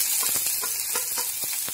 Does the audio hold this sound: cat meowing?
no